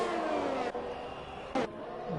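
A Haas Formula 1 car with a Ferrari engine in F1 2021, qualifying at Saudi Arabia, holds a loud high-pitched engine whine that shifts pitch through gear changes.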